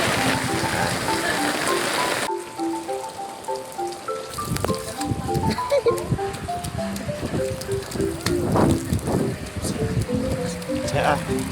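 Steady heavy rain hisses across the whole clip amid flooding, with a voice talking over it and some background chatter.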